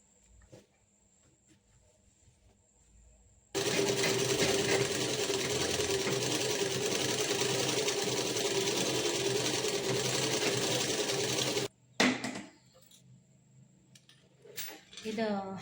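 A sewing machine for stitching clothes runs steadily for several seconds, loud and close, then stops abruptly, with a person talking before it starts and again after it halts.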